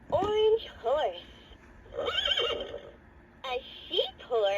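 A Leapfrog Fridge Farm magnetic toy from 2007 plays an electronic horse whinny with clip-clop hooves, bright quavering neighs in bursts alongside a voice from the toy.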